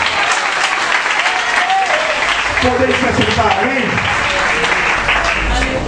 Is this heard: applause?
yes